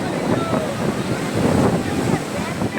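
Sea waves wash in at Puri beach as a continuous rolling surf, with gusty wind buffeting the microphone throughout.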